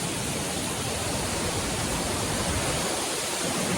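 Laxapana waterfall roars in Sri Lanka, a dense, steady broadband rush of falling water that holds constant and loud throughout with no voices over it.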